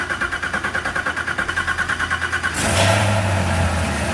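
A Camaro ZL1 fitted with a DSX Atlas system cranks with a rapid, even starter chug for a couple of seconds, then fires and catches into a loud, deep idle rumble close by.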